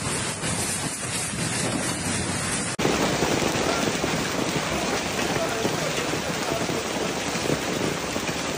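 Heavy rain pours down in a Rome city alley with water cascading, a dense steady hiss and roar of downpour throughout, sharply intensifying after a brief break partway through.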